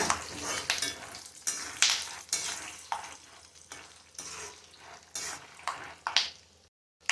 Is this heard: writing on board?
no